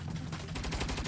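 Rapid turret gunfire from the 2022 Saints Row video game, a dense continuous burst of mechanical shots with a low rumble underneath.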